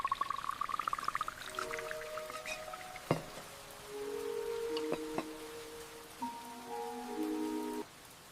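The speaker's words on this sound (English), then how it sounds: "The rain is nice today." Steady rain patters against a window on a quiet morning at home, with soft, continuous hiss and occasional sharper drops beneath gentle sustained musical tones.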